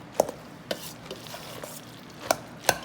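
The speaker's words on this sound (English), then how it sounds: "I'm just going to get this all stirred up." Seasoning salt being stirred into a macaroni and cheese dish, a few sparse sharp knocks and scrapes of a utensil against the container, close and without talk.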